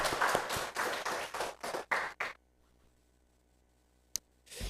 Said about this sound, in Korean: 우리 서동 속회 더 힘내시라고 큰 박수 다시 한번 해주시기 바랍니다.